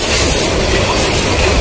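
The Kurigram Express passenger train runs past at ground level on its track, a loud, close, dense rumble of wheels and carriages with rapid clattering throughout.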